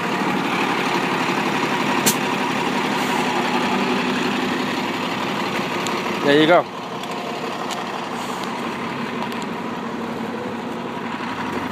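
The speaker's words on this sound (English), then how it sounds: "That's how the bus starts up." North Bay city bus engine starting up, a rough continuous idle with a short loud burst partway through before settling into a lower, steadier run, while a person talks nearby.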